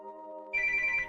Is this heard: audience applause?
no